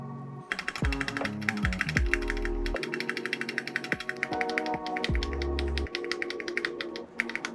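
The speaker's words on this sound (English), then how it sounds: "the tape has definitely made a difference to the spacebar and I'm really loving its sound" Clacky mechanical keyboard typing with deep, muted thocks from a taped spacebar pressed repeatedly amid steady keystrokes, close up and fairly loud.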